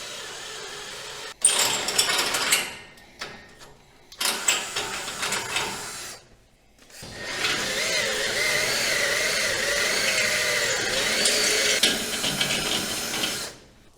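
A power drill with a Milwaukee step bit bores holes through trailer metal in a few loud, grinding runs separated by brief stops, then one long steady cut, close up with no talking.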